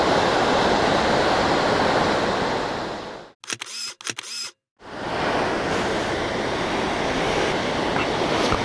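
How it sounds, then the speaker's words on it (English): A river rushes steadily beside the mountain road near Chitkul village, a loud, continuous wash of water. Midway it drops out briefly while a few sharp camera shutter clicks sound, then the river noise returns. "Oh, look at the river."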